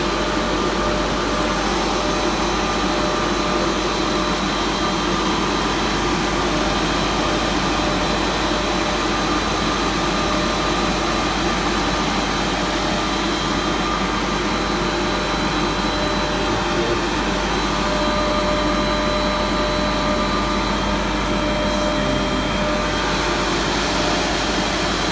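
Refrigerant rushing through an opened valve between two recovery tanks, a steady broadband whooshing roar that holds constant and loud throughout with faint tonal hum beneath.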